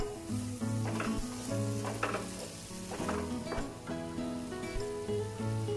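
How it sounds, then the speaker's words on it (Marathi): Cashews and milk powder sautéed in a pan on a gas flame for butter paneer masala, a steady sizzle running throughout with scraping stirs, while harmonic music plays loudly over it. "आपण झाकण काढून परतून घेऊया"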